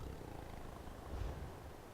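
Pet cat Malala, a female house cat, purring softly close by in a steady low rumble that swells slightly partway through, with no talk over it.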